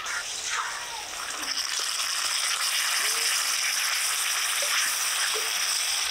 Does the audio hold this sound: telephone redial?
no